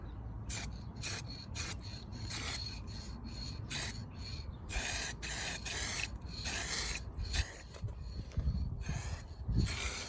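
A rattle can sprays lacquer onto the repaired sill of a Citroen C1 outdoors, in a series of short, close hissing bursts with brief gaps between them.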